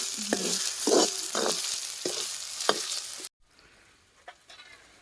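Curry leaves tossed into hot oil for a sprouted moth bean curry, giving a loud crackling sizzle with scraping stirs in the pan, then an abrupt cut to a quieter, gentler fry.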